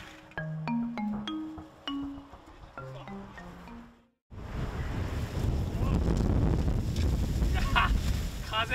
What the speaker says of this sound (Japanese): 風が強い。